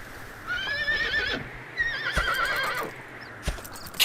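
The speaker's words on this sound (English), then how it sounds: "my horse isn't accustomed to being ridden" A horse in the video game Dragon Quest VIII gives two shrill whinnies close by, with a few hoof clops between and after them.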